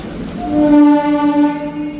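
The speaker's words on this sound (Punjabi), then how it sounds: "ਕੋਈ ਗੱਡੀ ਆਈ ਆ" A mail train arrives at Rajpura Junction railway station in Punjab, sounding a sustained, loud horn blast that holds steady and then fades, with no voices heard.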